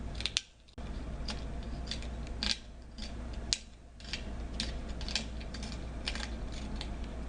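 Cutting material to size for a bamboo canteen stopper, a series of short crisp snips and clicks at an uneven pace, close and fairly quiet against a steady low hum.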